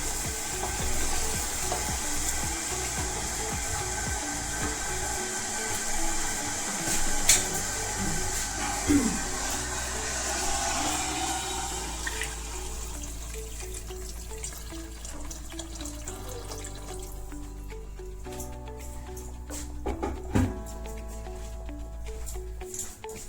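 Hot water goes into a pan of frying palak chicken, dhaba style, with a continuous splashing pour over sizzling, bubbling oil, then a softer simmering hiss with faint stirring clinks, close and steady.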